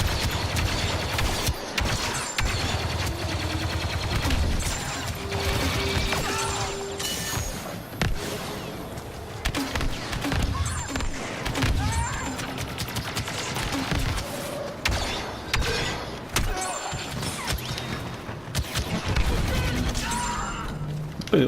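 Dense gunfire and booming explosions from the Star Wars Battlefront 2 video game in Jabba's Palace, rapid blaster bursts and impacts going almost nonstop and loud, with players' voices breaking through now and then.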